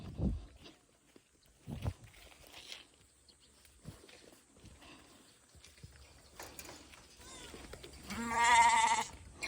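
Quiet rustles and scattered footsteps, then a single loud, wavering goat bleat close by near the end.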